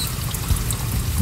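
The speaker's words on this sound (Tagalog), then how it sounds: "Pinupunuan natin ang drum para siya ay hindi agad matuyuan ng" Water pours into a drum used to store water for watering plants, a steady close gush and trickle over about a second, with a louder splash at the end.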